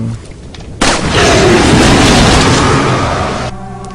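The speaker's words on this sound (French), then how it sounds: "j'ai pris le fusil à pompe, je tirais dans l'eau" A pump-action shotgun fired into swamp water in Resident Evil 4 lets out a sudden loud boom followed by a roaring splash and rumble that holds for nearly three seconds before cutting off, close and alone.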